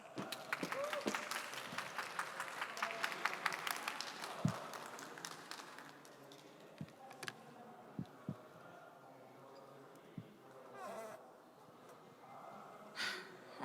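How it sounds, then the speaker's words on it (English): A conference audience breaks into a burst of applause that builds over the first few seconds and then dies away, leaving a few isolated claps, shuffles and faint murmurs in a quieter hall. "please greet her with a big round of applause."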